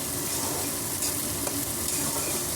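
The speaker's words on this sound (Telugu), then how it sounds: "ఆనియన్ వేసుకున్నాం కదండి, ఫ్రై చేసుకోవాలి." Onions frying in a pan for a quick egg curry, a dense, steady sizzle with faint stirring scrapes, close and continuous with no talk.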